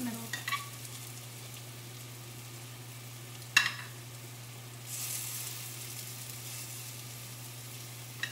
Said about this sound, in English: I'll tilt the camera so you can see these little devils sizzling away in here